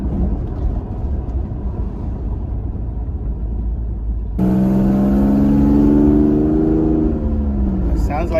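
A low, steady car engine rumble, then a louder, smoother VQ engine drone from an Infiniti G37 whose pitch swells and dips as it revs, close by.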